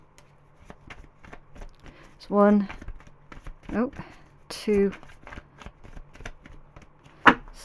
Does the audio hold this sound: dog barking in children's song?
no